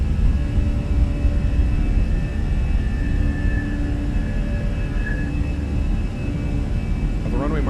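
Airliner engines at takeoff power in Microsoft Flight Simulator, a loud continuous roar with a steady whine, while a voice calls out over it.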